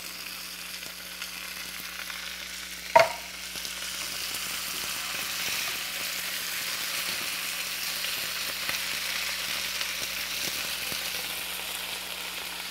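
Kashmiri chili frying in a pan for shakshuka makes a steady, even sizzle with one sharp click near the start, then continues unbroken and fairly quiet, with no voices.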